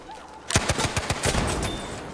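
A quick burst of gunfire in the Battlefield V video game: about six or seven sharp, closely spaced shots fired in rapid succession, loud and near, followed by fading combat noise.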